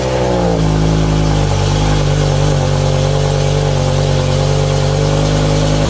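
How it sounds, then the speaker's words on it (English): Cold start of a 2007 BMW E60 M5 with its V10 engine and stock exhaust: a loud, steady, deep engine drone with a slight shift early on, then a sustained even idle throughout, close by and without voices. "So this is a cold start on a 2007 BMW E60 M5 in stock format for the last time."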